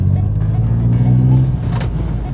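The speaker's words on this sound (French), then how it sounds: "regardez-moi ce petit compresseur. Ça fait un bruit pas possible, parce que ça souffle en continu." A BMW engine tuned to 1000 horsepower rumbles and revs close by, with a steady whooshing rush of air from its turbo compressor over the low growl, loud throughout.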